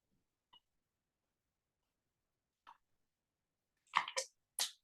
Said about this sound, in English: oh, excuse me, I got the hiccups